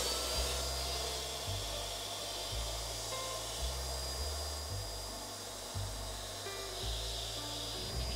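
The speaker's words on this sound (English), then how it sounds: "Inflate your Holiball until firm" Electric air inflator pumping up a Holiball, a steady droning hum whose pitch steps slightly up and down every second or so as the ball fills, continuous and close with no talking.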